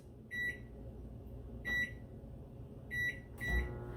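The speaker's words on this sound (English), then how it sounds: "soften the butter in the microwave right over here" A microwave oven softening butter gives three evenly spaced electronic beeps over its low running hum, then a brief clunk as the door or a button is handled.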